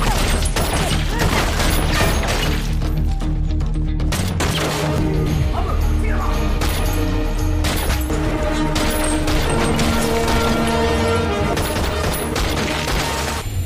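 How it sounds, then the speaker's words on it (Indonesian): Gunfire from a film shootout between police and mafia, loud and sustained rapid shots with crashes and booms over a dense, dramatic soundtrack. "Tak pelak baku tembak pun terjadi."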